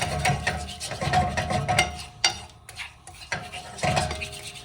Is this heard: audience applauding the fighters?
no